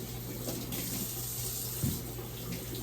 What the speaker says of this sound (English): Wash them off first. I wash off everything.